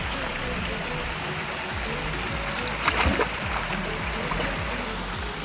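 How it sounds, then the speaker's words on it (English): Water rushes and splashes in a stream at a small part of a waterfall, a constant broadband wash up close, with speech partly audible under it. "So we managed to find a small part of the waterfall"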